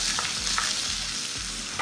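Chopped onion hits hot oil with tempered cumin seeds and fries with a loud, dense, continuous sizzle close by.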